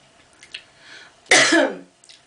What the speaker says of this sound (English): when I'm not coughing from a dry throat